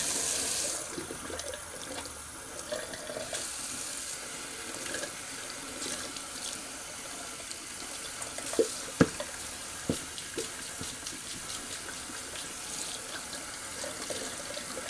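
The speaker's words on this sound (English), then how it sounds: "Sorry, just rinsing up my brush." Tap water runs into a sink while a shaving brush is rinsed, a quiet continuous splashing hiss with a few sharp knocks and clinks partway through.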